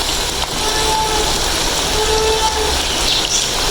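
Chicken leg pieces fry in ghee in a pan over a cylinder gas stove, giving a steady, close, dense sizzling hiss without a break.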